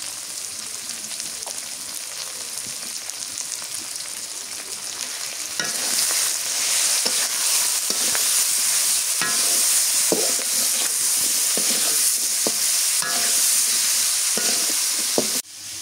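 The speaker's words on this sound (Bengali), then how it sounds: "আলু কষান করে নিলাম।" Potatoes with salt and turmeric powder sauté in a pan for a boal fish curry, giving a steady frying sizzle that grows louder partway through, with intermittent scraping stir strokes.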